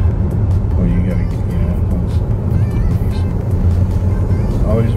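A car pulls away and accelerates during a driving lesson on a hill, its engine a loud, steady close-up drone from inside the cabin, while people talk over it.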